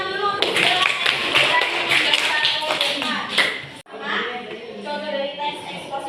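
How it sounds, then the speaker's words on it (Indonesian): A classroom of students claps for a classmate, a dense run of quick hand claps that fills the first few seconds, then breaks off and gives way to softer noise and voices. "kasih tepuk tangan dulu untuk Zela"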